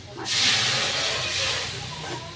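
Mustard paste drops onto fried spices in a hot pan for a fish curry, bursting into a loud, sudden sizzle that eases into a steady, fading hiss, with faint talk in the background.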